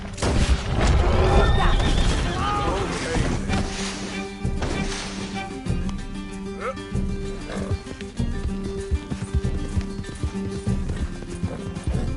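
Galloping hooves clatter rapidly and continuously in Red Dead Redemption 2 during a chase on horseback, with horse whinnies and snorts, scattered gunshots and game voices mixed in.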